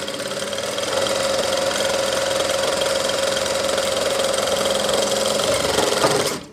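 A sewing machine stitches fabric for a gents kurta, running as a steady, continuous mechanical whir with a pitched hum, spinning up at the start and stopping abruptly at the end.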